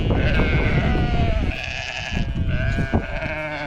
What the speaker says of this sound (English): All of our sheep are pretty friendly.